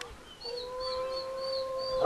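Timberwolves howl, long rising and wavering tones from one animal joined by a second higher wavering voice, fairly close and clear, with no speech over them.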